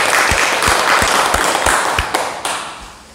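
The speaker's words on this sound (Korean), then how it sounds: "여러분 박수 한번 부탁드립니다" Close, loud applause from a small audience at a Buddhist dharma talk, with a few distinct nearby claps standing out in a loose rhythm before the clapping tapers off.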